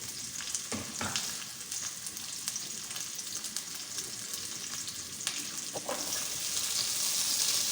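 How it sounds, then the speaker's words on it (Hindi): Goat mutton with ginger, garlic and spices fries in a pan, giving a steady, close sizzle with occasional stirring scrapes and a rising hiss toward the end. "गोश्त डाल के मसाले डाल के अदरक लहसुन सब बस इसको भून लेंगे।"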